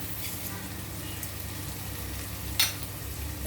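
Eggplant sautés in oil with cumin and fenugreek seeds, a soft, low sizzle that stays steady, with one brief clatter of a utensil near the end.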